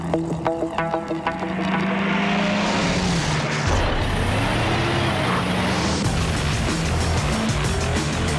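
A V8 pickup truck engine roars continuously through a truck commercial, with tire squeal and skidding over a busy background mix that shifts partway through.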